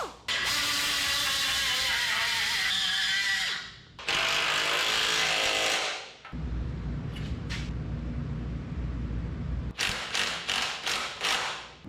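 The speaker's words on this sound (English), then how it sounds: "Now I got the ultimate drill bit" A power drill whines loudly in two long bursts, stops, then a lower grinding motor runs before a series of short, sharp trigger pulses, while repairing a 1961 Mercedes front axle.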